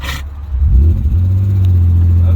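A Daytona Violet BMW E36 M3 engine idles close up after its resurrection, a steady loud low rumble that rises briefly at first and then settles, with a short voice at the start.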